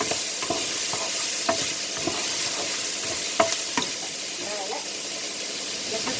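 Onion stir-fried in a small amount of oil hisses and sizzles steadily, with a spatula scraping and tapping the pan in irregular strokes close by; no one talks.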